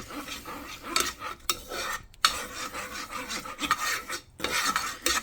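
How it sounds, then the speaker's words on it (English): A spoon scrapes and stirs cooked macaroni shells with creamy aged white cheddar sauce in a pot, giving repeated rasping, squelchy strokes with brief pauses between them, close and alone. "Alright, and we're just going to stir this up."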